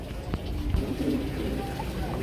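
Spanish pouter pigeons coo low and soft at a busy pigeon market, their murmuring partly buried under steady crowd noise and nearby voices.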